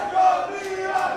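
A 5-Star Pro Wrestling crowd roars steadily with cheering and clapping, a dense, continuous wash of noise from a large audience that stays loud and unbroken throughout.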